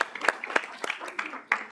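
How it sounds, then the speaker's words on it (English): A small group at a student government meeting gives brief, scattered applause, a few separate hand claps sounding sparsely over quiet room noise. "we can applaud for them"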